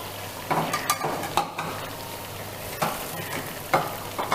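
Wood ear mushrooms and ginger sizzle and fry in a hot pan as a utensil stirs and scrapes in quick, repeated strokes, close and continuous.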